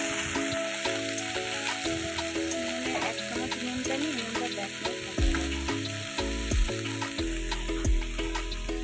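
Mixed vegetables for a vegetarian puishak (Malabar spinach) dish sizzle steadily in a hot pan, a dense, continuous frying hiss with occasional stirring scrapes and clinks, close and fairly loud, with no talking.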